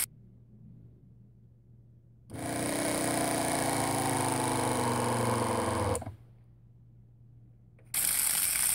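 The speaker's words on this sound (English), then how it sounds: "Same pressure, the pump's running, I don't know if you can hear it in the background." A small 12 volt on-demand water pump for a backup well system switches on and runs with a steady buzzing hum for several seconds, stops, then starts again near the end.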